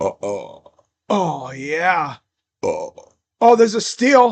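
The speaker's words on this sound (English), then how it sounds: "Those burps came from the abyss that is my stomach." Loud, drawn-out burps from a man during a live basketball play-by-play reaction. One long belch sits between short bursts of his excited talk.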